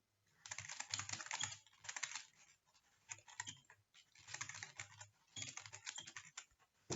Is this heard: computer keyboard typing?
yes